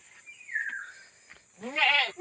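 Several goats bleating on a farm where a new kid has just been born, with a wavering cry early on and a louder, closer bleat near the end over a steady background hiss.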